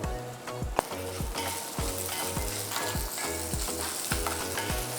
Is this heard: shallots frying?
yes